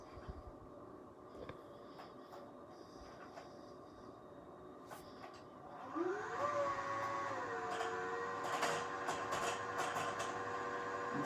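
A sewing machine winding a bobbin: a low mechanical hum runs steadily, then swells into a louder whirring drone with a rising motor pitch partway through, close and without talk.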